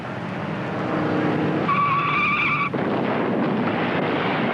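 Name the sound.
race car skidding and crashing through guardrail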